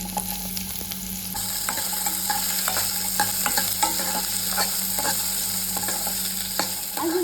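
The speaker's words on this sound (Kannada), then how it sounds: "ಸೊ ಕ್ಯಾಪ್ಸಿಕಮ್ ಫ್ರೈ ಮಾಡ್ಕೊತೀನಿ." Capsicum and zucchini frying in a pan give a continuous close sizzle, broken by frequent clicks and scrapes of a spatula stirring the vegetables, with no voices.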